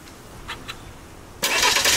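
A 2025 Cadillac XT4 Sport starts remotely from its key fob: two faint clicks, then the engine cranks and catches abruptly into a loud, steady idle close by.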